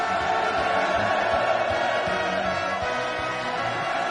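A large enthusiastic crowd of workers at the Sangwon Cement Complex cheers for Kim Jong Un, producing a sustained, dense roar of many voices that holds at an even level.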